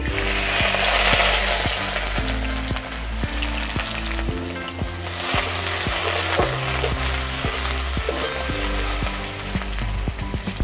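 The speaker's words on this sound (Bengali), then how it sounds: "তেল গরম হয়ে গেছে, এবার কিছু পেঁয়াজ কুচিয়ে রেখেছি সেটা দিয়ে দেব" Chopped onions frying in hot oil in a wok, a loud, steady sizzle with stirring scrapes, while background music with a regular beat plays underneath throughout.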